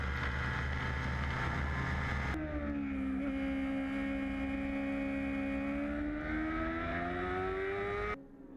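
F1 racing sidecars at speed on the Nogaro circuit: high-pitched engine whine sustained loud and close, with a sharp change in tone partway as the machines pass, then cutting down near the end.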